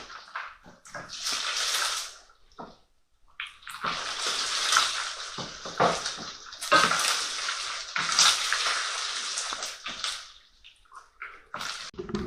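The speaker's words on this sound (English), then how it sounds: "So we're just going to now drain that off into the bowl." Liquid drained from a pan of cooked mince into a bowl, a splashing, trickling pour in uneven bursts with brief pauses and pan clatter, fairly close and moderately quiet, with no talk.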